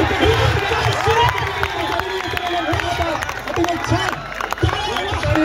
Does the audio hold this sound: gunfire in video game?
no